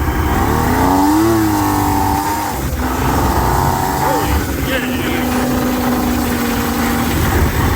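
A loud Polaris Indy 680 Ultra snowmobile engine, idling high, revs hard, its pitch rising and falling in sustained surges, with voices faintly mixed in.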